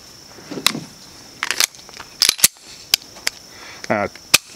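Grand Power pistol fired outdoors in a series of sharp, separate shots spaced unevenly, some close together, with a short stretch of speech between them.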